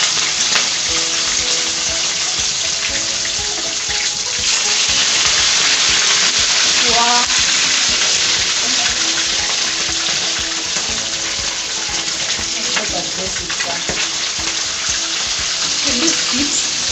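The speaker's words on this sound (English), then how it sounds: "I'm going to put enough oil in my pan to fry my chicken" Loud, steady sizzling and crackling of chicken frying in hot oil in a pan, continuous throughout with occasional clinks.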